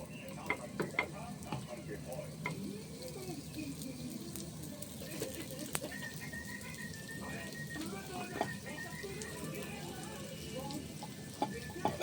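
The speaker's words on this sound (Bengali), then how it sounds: "এখানে কড়াই বসিয়ে ঘি দিয়ে দিলাম দেখতে পাচ্ছ কড়াই গরম হয়ে গেছে এখন আমি লিটিগুলো দিয়ে দিচ্ছি" Litti, rounds of wheat flour and sattu, drop into hot ghee in a new wok and fry with a continuous crackling sizzle. Intermittent stirring clinks sound over it. Faint background voices come and go.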